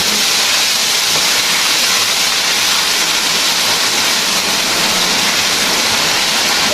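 Water poured into a pot of aloo keema curry gives a loud, steady, unbroken sizzling hiss that fills the whole stretch, with no one speaking.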